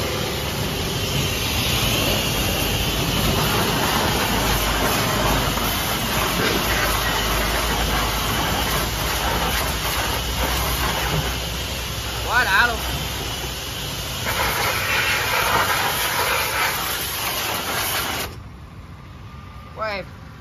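A 200 bar high-pressure touchless car wash machine with an 18 mm nozzle and 16 L/min flow sprays steadily and loudly for about eighteen seconds, a continuous broadband hiss and motor drone that cuts off near the end, with talk over it.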